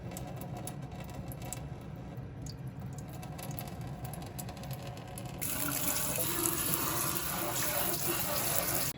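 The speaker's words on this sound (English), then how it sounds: "rinsing this gradually down the drain" Water runs steadily into a sink as tattoo ink parts are rinsed down the drain, and the flow grows louder and brighter partway through while a voice talks over it.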